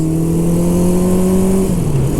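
A 1974 Honda CB750 four-cylinder motorcycle engine roars loudly at steady high revs, its exhaust note droning evenly before the pitch drops as the throttle eases off.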